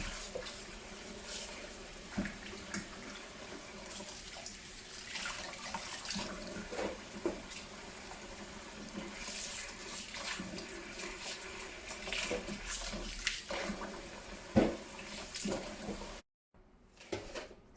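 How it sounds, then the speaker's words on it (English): Tap water runs steadily into a sink while radish, carrots, green onions and chives are rinsed for homemade kimchi, a continuous close splashing hiss with occasional knocks and rustles before stopping abruptly near the end. "We're going to wash the radish, the carrots, the green onions, and the chives."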